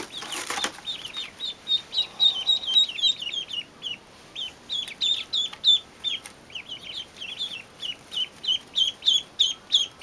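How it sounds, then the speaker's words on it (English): Six baby ducks peep in quick, high, repeated bursts, close and fairly soft, with a steady rhythm of short chirping calls and no talking. "with 6 baby ducks"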